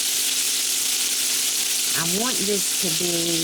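Filet mignon sizzles in a pan on medium heat, a steady close frying hiss throughout, with someone talking over it in the second half.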